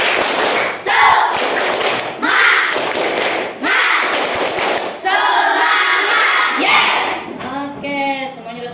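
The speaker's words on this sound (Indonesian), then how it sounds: "Coba kita tepuk semangat dulu, oke?" Primary school children at SD Negeri 1 Sukamanah in a classroom do a loud rhythmic spirit clap chant, with sharp group claps and thumps in patterned bursts under their shouted chanting voices, close and energetic.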